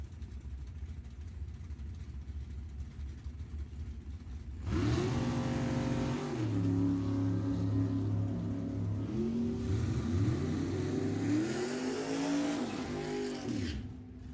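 Two Corvette drag racing cars at a drag strip, one with a Chevy 582 engine and one with a Brodix 555, rev up after a low idle rumble, then hold loud, rising and falling wails up close with no talking.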